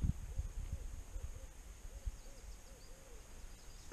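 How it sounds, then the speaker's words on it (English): Pair of barred owls hooting on a cold spring night by a bass pond, a run of soft rhythmic hoots at a distance over faint background noise. "Got a pair of barred owls right there"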